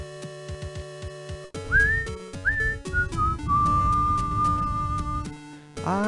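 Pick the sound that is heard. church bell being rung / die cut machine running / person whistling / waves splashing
person whistling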